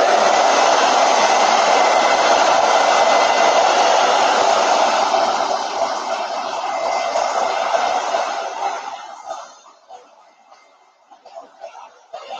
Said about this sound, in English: let me just hit this with the dryer real quick